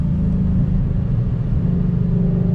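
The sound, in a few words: 2020 Ford Mustang Shelby GT500 engine accelerating in second gear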